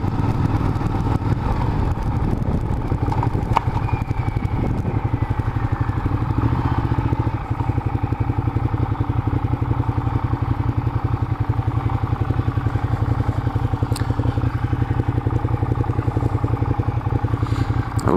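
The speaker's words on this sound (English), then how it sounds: "Check out those bikes." Several motorcycles idle and rumble steadily outside the Rock Store on Mulholland Highway, a continuous low engine drone with occasional clatter, close and loud throughout.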